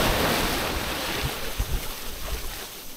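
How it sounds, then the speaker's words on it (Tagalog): Strong ocean waves crash and wash onto a beach, a broad rushing surf noise with wind buffeting the microphone and a few low thumps as the water breaks. "Oh, grabe kalakas sa alon."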